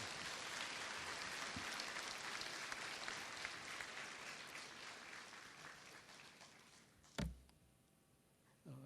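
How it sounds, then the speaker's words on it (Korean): Audience applause welcomes guests at the WHRCF 2014 opening ceremony in Gwangju, a steady, fairly distant patter that gradually thins out before a single sharp knock near the end. "다 같이 박수로 환영 부탁드립니다"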